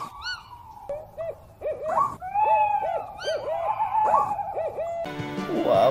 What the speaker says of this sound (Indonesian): benar ini adalah burung hantu. Wow, suaranya seram juga ya